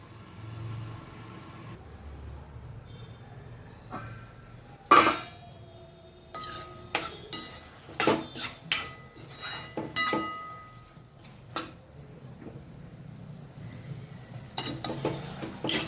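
Metal lid clanks onto a cooking pot of tomatoes, a sharp clink followed by several further metallic taps and rattles of utensils against cookware over a quiet background hum.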